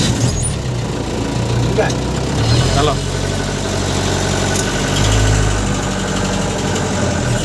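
A vehicle engine idles steadily outdoors at a Jay Shree Ram DJ event, its low rumble running throughout under crowd noise and people talking.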